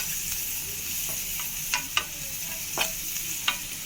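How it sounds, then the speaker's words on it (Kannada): Onion, turmeric and ginger-garlic paste stir-frying in a pan, with a continuous soft sizzle and a few sharp scrapes and clinks of a spoon against the pan. "ಅದು ಶುಂಠಿ ಬೆಳ್ಳುಳ್ಳಿ ಪೇಸ್ಟು ಹಸಿ ವಾಸನೆ ಎಲ್ಲ ಹೋಗೋ ತನಕ ಹುರ್ಕೋಬೇಕಲ್ವ, ಅದಕ್ಕೆ ಹುರ್ಕೊಳ್ತಾ ಇದ್ದಾರೆ."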